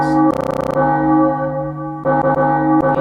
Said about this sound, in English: I mentioned the annoying bell sound.